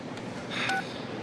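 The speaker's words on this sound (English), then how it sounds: "Trying Ryan's cell phone" A cell phone keypad is dialed, with a single short touch-tone beep rising briefly over low background hiss.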